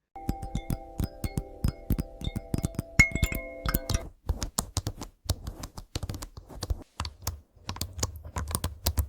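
AI-generated keyboard typing in ASMR style: fast, steady clicking keystrokes close up, with a sustained tonal hum under the first four seconds before the typing continues alone.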